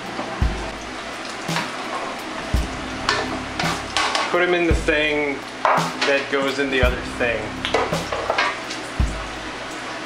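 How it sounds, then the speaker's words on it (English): French fries frying in oil for a buffalo burger lunch, with a steady sizzle running under close, intermittent talk and some kitchen clatter and stirring. "So now we're going to fry our French fries"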